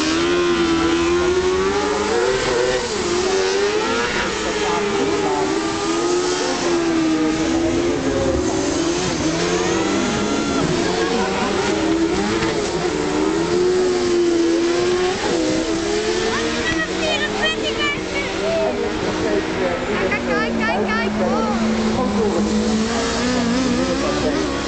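An army tank's engine runs at a Dakar rally pre-prologue event, giving a loud, continuous, wavering drone with rising and falling revs. A commentator talks over it throughout.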